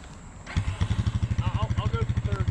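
A worn-out Honda CR500 dirt bike revs hard and launches in third gear, its engine note pulsing in a fast, steady rhythm that rises in pitch. A person talks briefly over the loud, close two-stroke drone.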